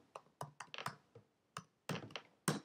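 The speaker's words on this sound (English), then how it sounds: "I type in the database password" A database password is typed on a computer keyboard as a short burst of close, crisp key clicks in irregular clusters with brief pauses, alone and fairly quiet.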